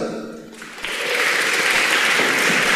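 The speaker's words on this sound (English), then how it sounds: "Round of applause for Anya." An audience at a seminar in Liverpool breaks into applause, rising from scattered claps into a loud, sustained wash of clapping that fills the room.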